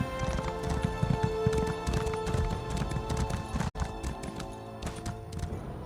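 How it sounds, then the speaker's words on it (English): Rapid hoofbeats of a horse galloping in Elder Scrolls Online on Xbox One, a dense, close clip-clop rhythm with a brief dropout midway, no talking. "Call our little horsey out"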